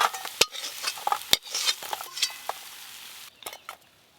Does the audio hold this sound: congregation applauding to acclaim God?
no